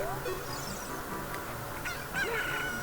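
Cucco chicken cries from the video game Ocarina of Time at Lon Lon Ranch, a few short squawking honks sounding alone over quiet game background music.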